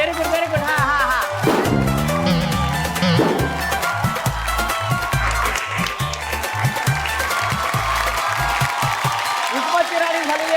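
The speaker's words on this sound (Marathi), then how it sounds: "एकदा जोरदार टाळ्या होऊन जाऊ दे." Audience applause for the winner on a Marathi TV game show, a dense wash of clapping from the crowd under loud amplified host talk and music, fading out at the very end.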